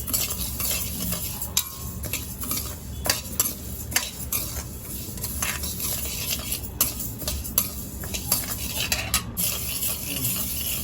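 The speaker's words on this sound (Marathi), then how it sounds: "डाळ अशी भाजायची, कलर असा आला पाहिजे त्याचा, चांगली अशी भाजायची, बारीक गॅसवर भाजायची" Washed urad dal dry-roasting in a pan over a low flame, stirred steadily with a metal spoon: continuous scraping and soft rustling of the lentils, punctuated by frequent light clinks against the pan, close and alone.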